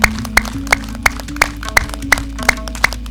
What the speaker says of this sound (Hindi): ये ताली अपने लिए बजा रहे हो तो पता चल रहा है कितने खुश हो।